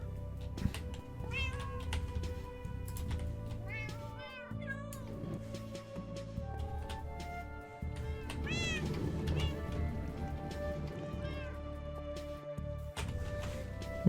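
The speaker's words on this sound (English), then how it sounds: "Get into position, you stupid cat." Several in-game cat meows from a Minecraft survival world, 1.20.2, rising in repeated short calls over a steady background of game music and ambient sound, with no talking.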